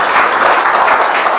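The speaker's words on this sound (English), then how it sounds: "Give a big round of applause for them" An event audience at GMBB breaks into loud, dense applause, a continuous wash of clapping close up and filling the whole moment, with no voices on top.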